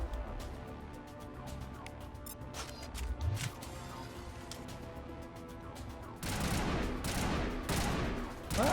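Sniper rifle and other gunfire in the Mass Effect shooter game: scattered sharp shots at first, then heavier, louder rapid fire and impacts over the last few seconds, with game background beneath.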